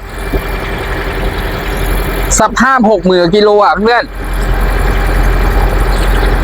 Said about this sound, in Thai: เครื่องยนต์เดินแบบนิ่งๆแบบเนี้ย